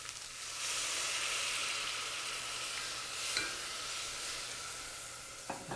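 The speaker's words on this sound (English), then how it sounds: "take some of this vegetable stock and we're going to deglaze the pan" Vegetable stock poured into a hot pan to deglaze it sizzles loudly and steadily for several seconds, a bright continuous hiss with a couple of brief scraping stirs near the end.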